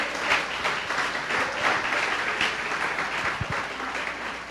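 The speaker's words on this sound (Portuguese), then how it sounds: "Uma salva de palmas ao Senhor." A church congregation claps in praise during a Sunday service, giving dense, sustained applause that holds steady and fades slightly at the end.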